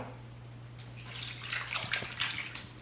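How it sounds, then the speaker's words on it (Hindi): Water poured into a cooking pot to boil chicken for spring roll filling, a steady splashing stream that grows louder and busier toward the end, close by with a faint low hum underneath and no talking. "और इसमें मैं ये पानी डालूंगी"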